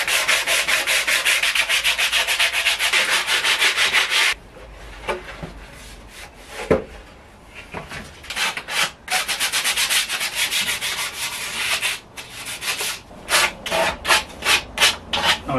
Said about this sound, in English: Now I just need to sand it and finish it off.